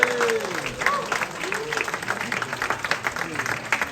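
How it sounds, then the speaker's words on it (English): Audience applause at a filmmaking masterclass in Shoreditch, a burst of clapping from a small crowd with cheering and voices mixed in throughout. "Give him a round of applause"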